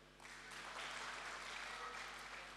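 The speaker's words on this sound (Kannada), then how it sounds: "ಚಪ್ಪಾಳೆ" Faint applause rises from a stand-up comedy audience, a soft, steady wash of clapping that starts just after the opening moment and carries on evenly, heard at a distance with no voices over it.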